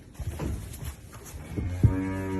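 Cattle low nearby, with deep drawn-out moos rising over a muffled barn background, the last one long and strong.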